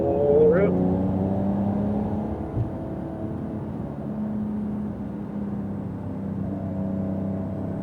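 A Porsche Carrera GTS accelerates on a wet race track. Its engine note rises and holds beneath a voice coaching the driver through the corners.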